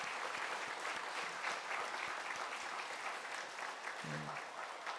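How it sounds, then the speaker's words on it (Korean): A church congregation applauds its choir with steady, dense clapping filling the sanctuary at a moderate distance, sustained throughout with a brief low voice near the end. "여러분 뜨겁게 한번 격려의 박수를 해주시면 감사하겠습니다"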